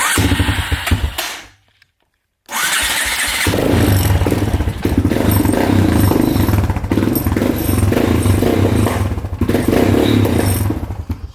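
A Polaris Predator ATV engine runs loud and close, rough and uneven with pops. A brief cutout of near silence comes early, then the engine carries on, sputtering and revving.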